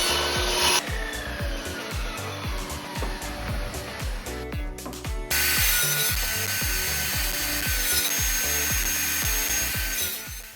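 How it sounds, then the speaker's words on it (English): Table saw pushed on a sled through lengths of wood in a small workshop, making a loud steady whining cut with a busy rasping texture, then a brief pause before a second continuous cut begins. "pushing the wood up against that block and then pushing the sled through the saw"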